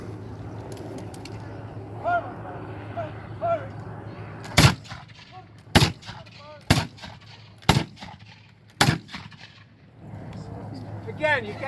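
Musket volleys fired by a drill company at the Fort McHenry ceremony in Baltimore, each volley a loud sharp crack with ripple, five blasts spaced about a second apart, with a commander's voice calling orders between them.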